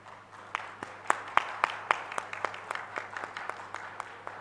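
Sparse, scattered hand claps from a conference audience after a keynote session, a few sharp claps standing out early and then thinning into lighter, irregular patters, moderately close in a hall with a steady low hum.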